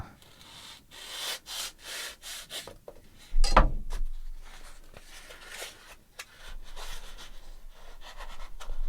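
Foam pipe insulation for copper pipes being cut by hand, a run of soft rubbing, rasping strokes with one louder sharp snap partway through, close and alone.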